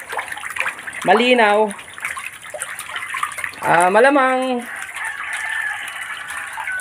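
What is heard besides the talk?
fresh water being poured into a concrete catfish pond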